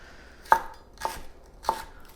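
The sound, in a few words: muddling celery into little pieces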